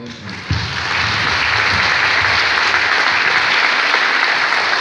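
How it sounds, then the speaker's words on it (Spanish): An audience applauds after a public talk about the history of Xalapa, the clapping swelling suddenly after a brief pause and holding steady and full, a dense wash of many hands with no voices. "Un aplauso."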